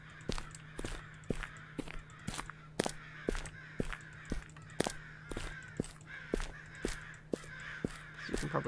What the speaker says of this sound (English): These damn stupid crows.